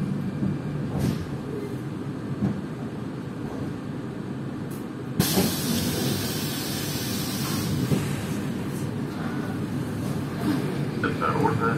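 A Moscow Metro train rumbles along between stations with a steady low drone, and a sudden loud rush of air noise as it picks up speed.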